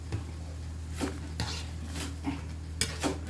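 A utensil stirs pancit bato noodles in a metal pan, giving several sharp scraping clinks at irregular intervals over a steady low hum, close and fairly loud.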